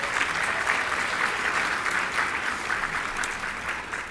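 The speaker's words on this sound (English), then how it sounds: "Let's please give them a round of applause." Steady, dense round of applause from an audience at an evening award ceremony, many hands clapping continuously at even loudness throughout with no speech.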